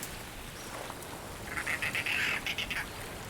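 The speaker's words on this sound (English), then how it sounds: "There's a bird up in the tree." A bird calls from a tree in the video game Verne: The Shape of Fantasy, a short burst of repeated chirps or quacks midway over quiet ambience, no speech.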